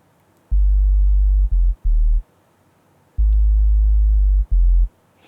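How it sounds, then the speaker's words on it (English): Deep analog-style sub bass synth from a Logic Pro Alchemy patch plays a short line of low, smooth sustained notes in two phrases separated by a pause, heard alone against near silence. "Now the bass line is an alchemy patch."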